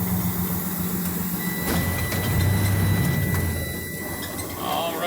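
A truck releases its brakes and rolls forward slowly at about 5 mph during an in-cab inspection with wheel chocks: a continuous engine drone with a short hiss-like burst early on and a low hum that swells midway.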